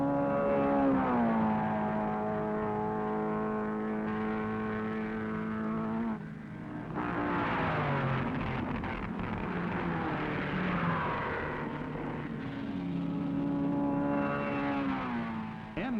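1957 Sebring race cars, Ferrari, Maserati and Corvette, roar down the mile-long airport straightaway, loud engine drones rising and falling in pitch as cars pass one after another, continuous throughout.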